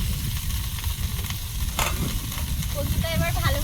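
Potatoes and bottle gourd greens being stirred in a frying pan, with a steady close sizzle and brief scraping stir strokes.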